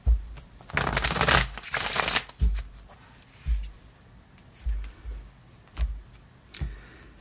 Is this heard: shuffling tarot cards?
yes